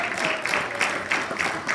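A church congregation applauds during a sermon, a dense, even wash of clapping with gentle swells, steady and fairly full for a brief moment.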